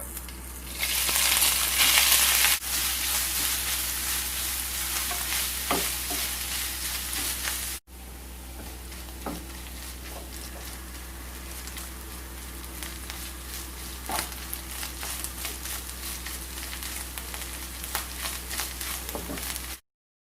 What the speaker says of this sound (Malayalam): അതിലേക്ക് ഇഞ്ചിയിട്ട് വറുത്തെടുക്കാം.